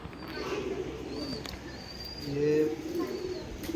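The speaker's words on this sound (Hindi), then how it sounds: "ये हमारे के कबूतर हैं," Old pigeons, including a red pearl-marked bird, coo softly in a loft, a few low rolling calls rising over quiet background noise and faint nearby voices.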